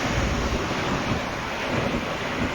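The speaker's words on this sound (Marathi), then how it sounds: "पाऊस सुरू झालेला आहे." Rain falls during an outdoor long march, a continuous loud rushing hiss mixed with wind buffeting the microphone, steady and without voices.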